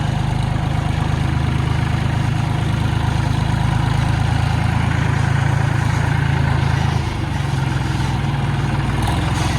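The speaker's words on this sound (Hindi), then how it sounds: "ये अपना दूसरा ट्रैक्टर।" A tractor engine runs loud and close in a steady, heavy, low idle with a constant rumble for almost ten seconds. Near the end it dips slightly, then carries on unchanged.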